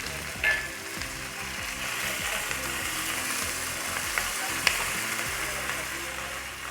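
Chillies and curry leaves hit hot oil for a tempering, a busy crackling sizzle that flares as they drop in, then settles into a steady fry with occasional stirring, close up.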